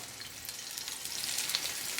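Bombay duck fish sizzling in hot oil at medium temperature, a dense crackle with sharp little pops, growing slightly louder, close by and without talk.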